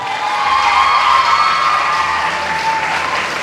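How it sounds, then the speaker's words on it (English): An audience applauds the parents at a graduation-style school address, a steady dense wash of clapping with a few cheers and whoops mixed in, loud and sustained throughout with no speech over it. "Please, a round of applause for the parents."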